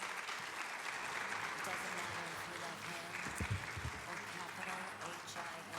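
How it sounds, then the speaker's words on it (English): Audience applause rings out at a college scholarship pageant, a steady close burst of clapping from the crowd with a voice talking over it. "Give them another round of applause, please."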